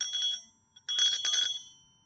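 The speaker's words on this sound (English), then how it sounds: "the old Liberty Bell replica" A small replica of the old Liberty Bell rings twice with bright metallic tones, a short strike followed by a longer, louder ring that fades out.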